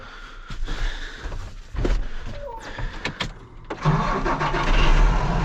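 A Dodge Magnum fitted with a replacement starter motor cranks briefly, then its engine catches and settles into a steady, loud idle.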